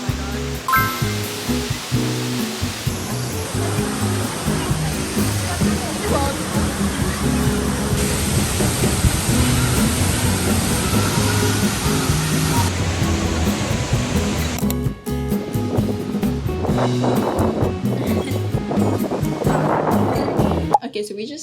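Waterfall at the Mother Falls, a steady broadband rush of falling water close by, loud and continuous throughout, with some faint voices beneath it in the later part.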